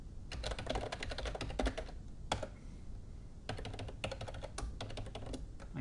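Fingers type a username and password on a computer keyboard, with rapid clattering key bursts separated by short pauses, close and steady, with no voices.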